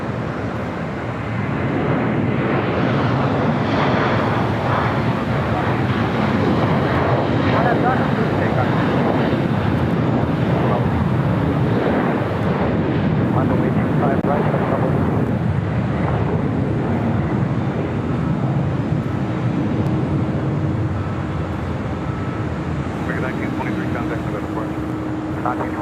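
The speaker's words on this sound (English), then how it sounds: "This United Dreamliner 787-9 Dreamliner now starting taxi" A United Boeing 787-9 Dreamliner bound for Hong Kong starts taxiing at LAX, a loud continuous engine roar with a faint high whine, buffeted by wind noise.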